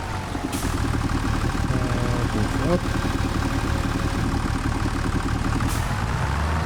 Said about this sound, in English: It's kind of interesting though, the sound the tractor is making sometimes